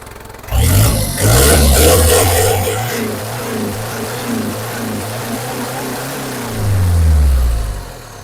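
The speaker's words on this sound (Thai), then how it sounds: "เครื่องเนี่ยเงียบๆนิ่งๆนะ" Engine of a used 4x4 off-road pickup running close by, revving hard at the start, settling to a steady idle, then rising again near the end.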